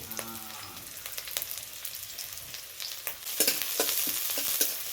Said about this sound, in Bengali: এই পেঁয়াজ এবং কাঁচা লঙ্কার কুচিটা একটু ভালো করে ভেজে নেব।